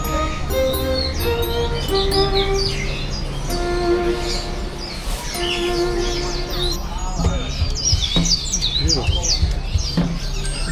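Many birds chirp and tweet in dense, overlapping calls at a crowded Hong Kong bird market, bright and close, with a low rumble of traffic and voices underneath.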